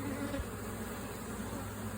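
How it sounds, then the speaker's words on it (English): Honeybees swarming over a frame lifted from a beehive, a constant dense buzz at close range that stays at one steady level throughout. "see how it's got a lot of bees on it?"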